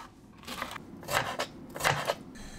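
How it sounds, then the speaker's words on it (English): A kitchen knife chops carrot, cabbage, mushroom and kimchi into small pieces on a cutting board, with a few quick bursts of close, crisp cuts in uneven rhythm. "chop up some leftover carrot, cabbage, mushroom, and kimchi into small pieces"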